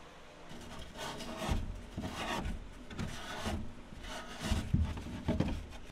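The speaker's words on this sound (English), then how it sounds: "I use the acetone to rub off any extra sealant." An acetone-soaked rag rubs off excess sealant on an aluminum jon boat under restoration, making steady, close scrubbing and rasping strokes in a repeating back-and-forth rhythm.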